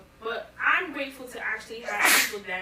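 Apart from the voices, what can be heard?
a sneeze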